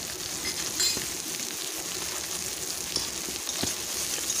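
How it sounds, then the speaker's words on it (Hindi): Onions fry in a pan while a ladle stirs them, making a steady close sizzle broken by occasional scraping strokes and clinks. "प्याज को ऐसे ही करछा चला चला के फ्राई करनी है जब तक कि ब्राउन ना हो जाए"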